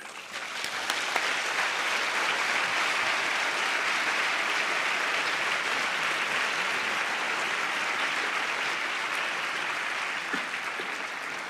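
Sustained, warm audience applause greets environmentalist Sunita Narain at a conference on meeting everyone's needs within planetary boundaries, a steady wash of clapping holding for over ten seconds without a break.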